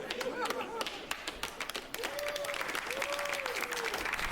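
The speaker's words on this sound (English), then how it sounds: "Listen to this clap." An audience claps in a burst of applause, sharp overlapping claps under a voice talking over them, with crowd noise throughout.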